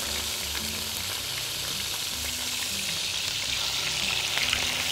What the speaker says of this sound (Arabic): حطينا زيت زيتون وحطينا السمك